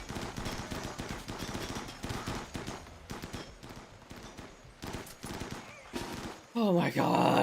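Rapid gunfire and automatic bursts during a raid in a modded colony-survival video game, dense and continuous over the whole stretch, with a louder crackling burst near the end.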